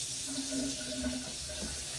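Water runs steadily through household pipes after the supply is turned back on, a faint continuous hiss and trickle with no talking.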